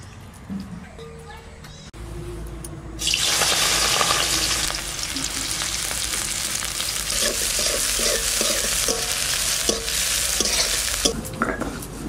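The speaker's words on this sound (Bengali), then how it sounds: "এই তেলের মধ্যেই আমি ডিম কটা ভেজে নেব" Duck eggs frying in hot oil in a wok, a loud hiss bursting in after a quiet start and crackling steadily with stirring, while a person talks intermittently over it.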